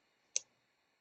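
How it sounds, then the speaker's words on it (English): A single soft computer mouse click, short and quiet, in otherwise near silence. "you can right mouse click once and go to image and image title"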